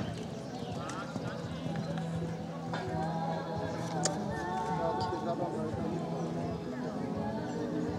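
Horse hooves clip-clop steadily at a show jumping event in Hradištko, a rhythmic beat of footfalls under a continuous announcer voice and background crowd chatter.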